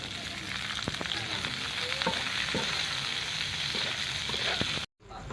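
Chopped onion and green chili frying in hot oil, a loud, dense, continuous sizzle with faint clicks of stirring, cutting out abruptly near the end before resuming.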